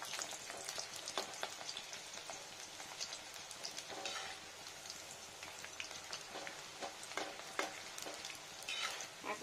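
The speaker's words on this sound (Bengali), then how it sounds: "তো ওই জন্য এটা আগে ভেজে নিই।" Small biscuit-like dough pieces, pricked with holes, deep frying in hot oil, a steady dense crackle and sizzle with scattered louder pops throughout, close up and alone.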